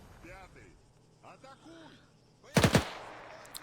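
A short, loud machine gun burst in Arma 3, set in a WWII Soviet defense scenario, rips out near the end after a stretch of quiet talking, with a final faint shot trailing off.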